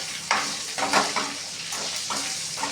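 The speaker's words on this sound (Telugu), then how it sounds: "ఇప్పుడైతే చికెన్ కూడా ఫ్రై అయిపోయింది" Chicken fries in a pan, giving a continuous close sizzle with several brief stirring scrapes and bursts spread through it.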